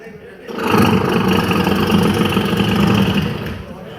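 A tractor engine rumbling nearby, swelling in from quiet into a loud, steady mechanical drone that holds for a few seconds, then eases off slightly at the end.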